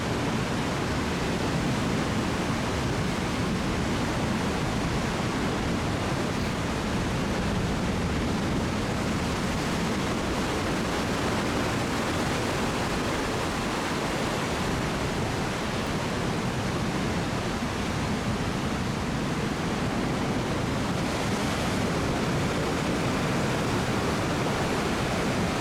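Ocean surf rolling into a small bay, a steady broadband roar of breaking waves and churning water that stays loud and continuous throughout, with no voices over it.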